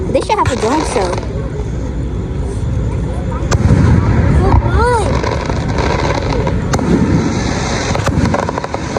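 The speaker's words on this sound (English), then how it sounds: "This is her second time seeing fireworks?" Fourth of July fireworks bursting outdoors, repeated booms and crackles with whistling rockets rising, while a crowd of people talks and exclaims throughout.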